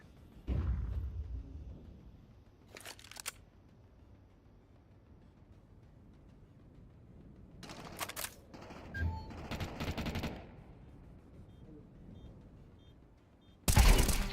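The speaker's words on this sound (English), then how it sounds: "I'm throwing a flashbang." Sparse video-game gunfire rings out in bursts, with a sharp blast near the start, clusters of shots in the middle and a loud crack at the very end, separated by quiet stretches.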